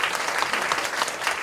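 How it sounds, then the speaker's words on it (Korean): A seminar audience at a Reformed faith lecture applauds with a steady, fairly loud wash of many hands clapping together throughout the short stretch. "다시 한번 박수 쳐주시기 바랍니다."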